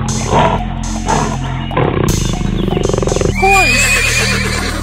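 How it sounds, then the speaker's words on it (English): A horse neighs loudly in an animated animal race, a drawn-out whinny rising over a steady low background rumble, with other animal cries and bursts around it. "Horse!"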